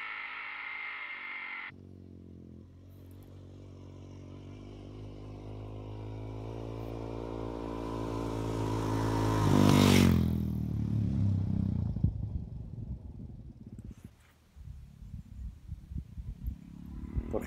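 A Suzuki DRZ Rally enduro motorcycle with a stainless steel exhaust accelerates on a winding road near Benalmadena, Andalusia: the engine revs climb steadily through a gear to a loud peak, then drop off as it brakes, with wind and road clatter following.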